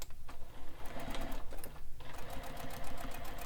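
A sewing machine stitches a Manhattan bag in quick rattling runs, stopping briefly twice before the needle starts chattering again, close and alone.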